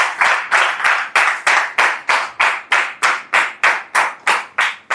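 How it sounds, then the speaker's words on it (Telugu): A church congregation claps loudly in unison, about fourteen sharp, evenly spaced claps in a steady rhythm, close and forceful with no voices over them. "గట్టిగా చప్పట్లు కొట్టి దేవుని ఘనపరచండి"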